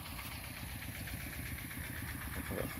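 A small engine drives a water pump lifting canal water into a rice field for planting cattle grass, running with a steady, even idle-like chug at close range, heard alone throughout.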